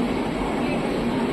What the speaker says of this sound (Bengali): প্রায় 3 মিনিট লেটে ট্রেন ছাড়লো